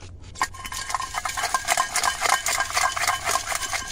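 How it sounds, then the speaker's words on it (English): A handmade pot scrubber rubbing out the inside of a cup, a close steady scratchy scraping with quick strokes and faint clinks, continuous throughout and free of talk. "This has enough integrity that you can scrub out a dish like this cup"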